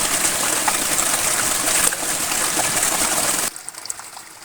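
Cold water from a mountain stream rushes and splashes steadily as hands are washed in it in a village, close and loud, with a sudden drop to quieter trickling near the end.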